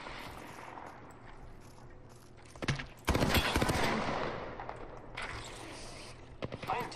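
Gunfire in the video game Apex Legends, with bursts of rapid shots crackling and booming at mid distance over a steady background rumble, loudest around the middle and returning in scattered shots toward the end.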